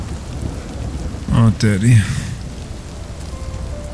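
Steady rain from the video game RIME hissing throughout, with a brief burst of louder sound in the middle as a voice speaks over it.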